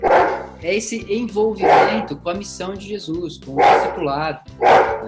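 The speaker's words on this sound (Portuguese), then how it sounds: "Desculpa pelo cachorro aí que ele tá latindo." A Rhodesian Ridgeback barks in short bursts in the background, partly masked by someone speaking steadily in the foreground.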